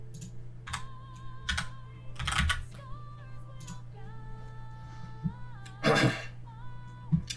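Keys on a computer keyboard clack in short irregular bursts as a name is typed, over a low steady hum and faint electronic tones.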